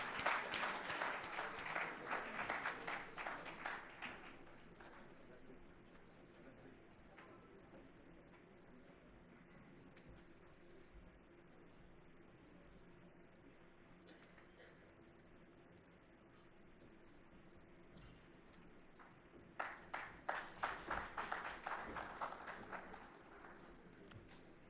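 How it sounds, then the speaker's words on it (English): An audience claps for the dignitaries at a Commonwealth Med-Arb conference in Hyderabad, with loud dense applause at the start that dies down into a quiet room, then a second burst of clapping near the end. "May I request a round of applause for the dignitaries?"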